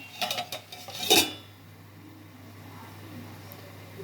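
A lid is set onto a cooking pot of tomato curry with a few quick metallic clanks and a sharp clatter, then the pot settles into a quiet background simmer.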